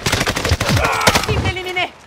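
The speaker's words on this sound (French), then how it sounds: "Je me fais tirer dessus." Rapid bursts of automatic gunfire and sharp weapon cracks from a Call of Duty Warzone (Modern Warfare) match, loud and continuous over game effects and music.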